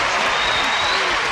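A game show studio audience on Hollywood Squares breaks into applause, a continuous, even roar of clapping filling the short moment, with some voice mixed in.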